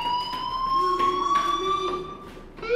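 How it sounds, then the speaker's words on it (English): A school fire alarm rings in the Life Is Strange video game, a steady high-pitched electronic siren tone sounding continuously and fairly loud, with no talking over it. "Hey, do you hear that fire alarm?"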